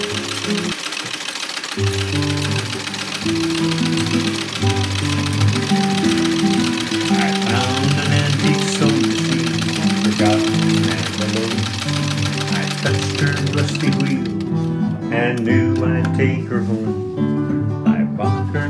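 An 1895 Singer 15-11 sewing machine, newly repainted and reassembled, stitches steadily with a continuous mechanical whir under music playing throughout.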